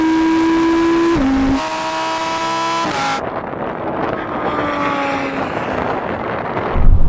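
An Audi and a Lamborghini accelerate hard, with engine tones climbing steadily and shifting through gears. The loud revving is close and stays steady, then gives way to a broad roar with wind noise and a sharp burst at the end.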